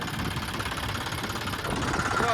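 A tractor engine idles with a steady low knocking rumble, close and continuous, rising slightly toward the end.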